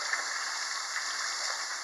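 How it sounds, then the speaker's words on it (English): Hot tap water runs steadily onto a kitchen sponge at a sink, a continuous close hiss of splashing water with no pauses, heard alone without talking. "So I'm going to get my sponge wet with hot water."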